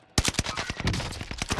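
Heavy gun in a shooter video game firing a rapid, loud burst of shots, close and dense with no talking.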